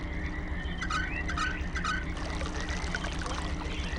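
Water pours steadily from a tap in the Channelwood Age of the video game Myst, a continuous splashing rush with a low hum underneath and a few brief tonal chirps early on.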